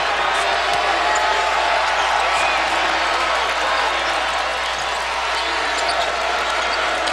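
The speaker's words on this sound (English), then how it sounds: "as we hear the crowd here start to get ramped up" Basketball arena crowd at a Clemson vs Louisville game, a dense steady roar of cheering and noise filling the whole clip, with faint talk and court sounds mixed in.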